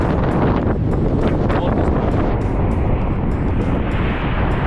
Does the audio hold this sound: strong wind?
yes